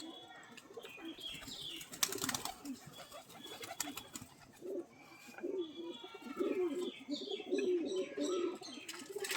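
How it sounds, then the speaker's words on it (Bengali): Pigeons kept for sale, cooing in low repeated rolling coos close by, with bursts of wing flapping and faint chirps, while someone speaks over them. "নর পায়রাটার চোখ এই যে সবুজ"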